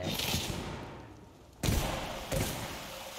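Shotgun blasts boom in Warhammer: Vermintide 2, with two heavy, close reports about a second apart after a stretch of rumbling game noise.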